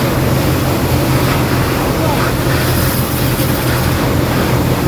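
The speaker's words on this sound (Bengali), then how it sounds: "এবার ইঞ্জিনের ভিতরে একটু ভালো করে পানি মারতেছে ভাই।" A pressure-washer jet blasts water inside the engine bay of a mud-caked ride-sharing car at a car wash, a loud, steady hiss with a low rumble underneath.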